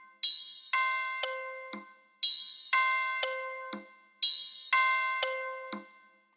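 Ride bell voice from Bounce Metronome software strikes in a steady pattern of four tuned, ringing hits that step down in pitch, then the sequence repeats three times, clean and close with no talk.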